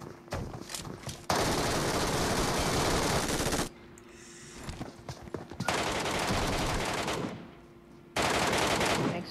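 Rapid automatic gunfire in PUBG Metro, several loud sustained bursts separated by brief quieter gaps, with no talking over the shots.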